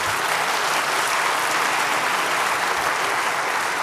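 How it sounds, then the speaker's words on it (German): Dense, steady applause from a large audience at a Chaos Communication Congress year-in-review talk, loud and continuous throughout with no pauses. "Also dieser Applaus ist jetzt"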